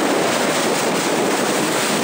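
Ocean surf pounds the shore during Hurricane Sandy, a loud, steady roar of crashing water mixed with gusty wind noise, with no voices.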